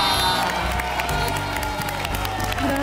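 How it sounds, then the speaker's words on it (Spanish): A studio audience claps and cheers for the season's winner on a results show, producing a dense, loud wash of applause with whoops, plus talk and music mixed in beneath it. "El fuerte aplauso."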